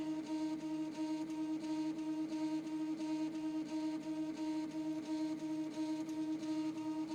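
A 3D printer runs its self-test, its stepper motors whirring in a steady, rhythmic pattern of repeating tonal pulses at moderate, close volume, with no voices.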